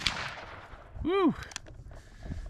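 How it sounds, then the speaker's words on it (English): One sharp, loud report from a Ruger GP100 revolver firing a .357 Magnum 125 grain jacketed soft point Remington UMC round at an outdoor range, followed by a ringing tail and some faint voices. "now we're gonna try the 357 Magnum 125 grain jacketed soft point Remington UMC"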